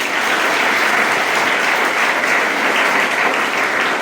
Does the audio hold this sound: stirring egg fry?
no